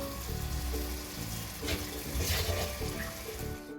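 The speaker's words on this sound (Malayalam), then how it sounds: "വെള്ളം ഒഴിച്ചു കൊടുക്കുകയാണ് അതൊന്ന് മെൽറ്റാകാനായിട്ട് മാത്രമേ" Water pours steadily into a hot pan of jaggery to melt it, a continuous rushing splash mixed with faint sizzling, close and fairly loud.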